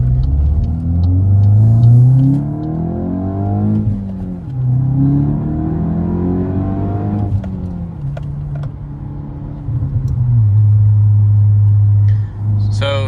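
Mark 8 car with an aggressive catback exhaust revving repeatedly, loud rising and falling engine roars with a deep rumbling idle between blips, close by.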